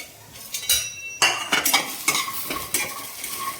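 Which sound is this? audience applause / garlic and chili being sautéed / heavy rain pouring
garlic and chili being sautéed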